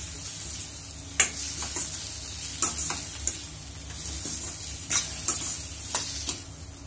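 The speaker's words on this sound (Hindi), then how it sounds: "ये देखिए 1 से 2 मिनट लगेंगे इसको इस तरीके से भूनने में" Arbi (taro) coated with besan is stirred and fried in a pan, giving a steady soft sizzle broken by repeated sharp scrapes and clicks of the spoon against the pan, with no one speaking.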